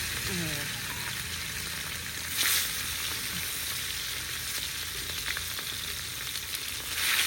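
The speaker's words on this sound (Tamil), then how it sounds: "எண்ணெய் நல்லா கொதிச்சுட்டுது மீனை பொறிப்போம்" Steady crackling sizzle of fish frying in hot oil, continuous and close, with occasional bursts and faint clatter.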